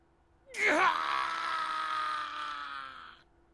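Takeda, a character in the video game Hakuoki, lets out a single loud, sustained shriek of pain that breaks sharply and then trails on for nearly three seconds before cutting off.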